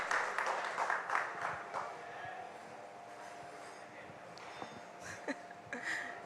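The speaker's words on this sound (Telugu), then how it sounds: "నేషనల్ అవార్డ్ విన్నింగ్ ప్రొడ్యూసర్ కి ఒక్కసారి గట్టిగా చప్పట్లు." An audience claps loudly for a national award-winning producer at a public event. The burst of applause is strongest at the start, then thins and tapers off, with a few scattered claps and murmuring voices underneath.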